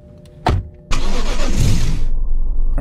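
A car engine in the Mimic Search horror game starts up with a short burst, then runs steadily and loudly as the vehicle drives sluggishly along a dirt road, without any talk.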